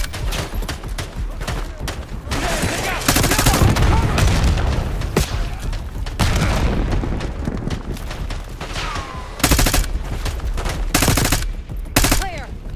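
XM4 assault rifle fire in the shooter Call of Duty: Black Ops 6, loud repeated bursts of automatic gunfire and booms through a busy battle mix, with voices talking at times.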